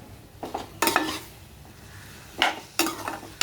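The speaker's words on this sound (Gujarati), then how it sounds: "આપણે હવે આ બધું આમાં મિક્સ કરી દઈશું।" Eggplant bharta ingredients stirred in a pan: several sharp scraping strokes and clinks of a spoon against metal in two short bursts, over a faint sizzle, with no talking.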